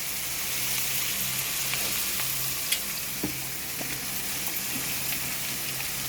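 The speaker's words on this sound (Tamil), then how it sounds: "தக்காளி பழம் நல்லா வதங்குது ஃப்ரெண்ட்ஸ்." Tomatoes sauté in a hot pan for kothu parotta, giving a continuous close sizzle and frying hiss with a few faint stirring taps.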